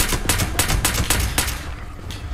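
Rifle gunfire in the Fallout 76 Steel Dawn game, fired at super mutants: a rapid burst of about eight loud, sharp shots in an uneven rhythm, fading out toward the end with no talk over it.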